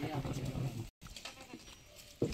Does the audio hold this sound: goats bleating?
yes